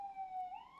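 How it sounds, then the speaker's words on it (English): A siren wails outside, rising and falling in a steady tone that sweeps upward near the end, heard at a distance under light background noise. "Damn sirens."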